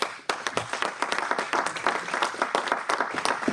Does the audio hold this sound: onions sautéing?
no